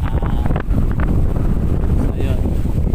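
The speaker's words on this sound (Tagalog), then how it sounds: "Lakas ng hangin." Strong wind buffets the microphone steadily and loudly beside a river in the Philippines, a constant low roar with gusty rumble filling the whole stretch, a voice faintly audible beneath it.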